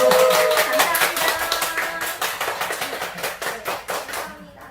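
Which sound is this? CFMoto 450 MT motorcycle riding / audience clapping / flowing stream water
audience clapping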